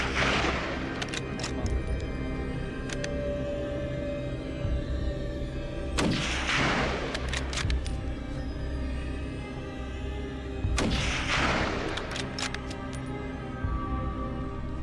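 Rifle shots ring out during a wild boar hunt on a farm, three sharp cracks spaced several seconds apart over a constant low drone and rumble, with no talking.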